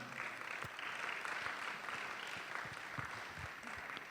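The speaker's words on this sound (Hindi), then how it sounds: "ज़ोरदार तालियां." An audience at a church gathering breaks into sustained applause, a steady wash of clapping with a few sharper individual claps standing out, heard from a moderate distance.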